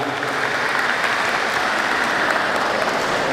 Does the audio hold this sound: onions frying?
no